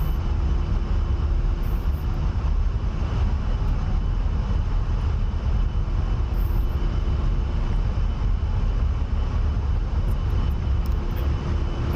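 An A-10 jet in the DCS flight simulator drones with a steady, loud engine roar and constant tonal whine through takeoff, unbroken for the full twelve seconds.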